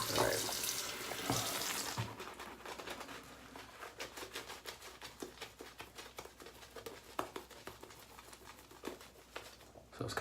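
Water runs from a tap during a wet shave, a steady hiss with patter and splashing, strongest in the first two seconds and then continuing more broken under intermittent clicks and handling noise.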